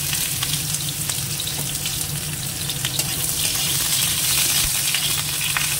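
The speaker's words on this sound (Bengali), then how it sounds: "এবার তেল দিয়ে দিচ্ছি কড়াইটা দিয়ে, উচ্ছেটা ভাজা দিয়ে দেবো।" Bitter gourd fries in hot oil in a wok, a loud continuous crackling sizzle that holds steady throughout, close by with no talking.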